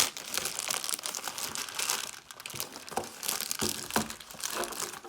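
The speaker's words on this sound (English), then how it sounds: "Just go ahead and rip it." Plastic packaging of an Incipio Aerolite case for the LG G8 ThinQ being ripped open, close loud crinkling and tearing that goes on with bursts and short pauses, no talk.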